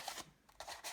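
Scissors snip through paper to cut a half-circle, giving a few soft, close cutting strokes with no one talking.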